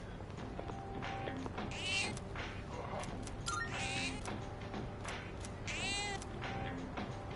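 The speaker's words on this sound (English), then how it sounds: "Cat is purring loudly." A cat in the video game Persona 3 Reload meows several times in short, clear calls spaced across the stretch over faint background game sounds; soft purring is not clearly distinct.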